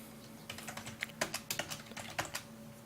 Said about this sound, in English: I don't even know if they can see me typing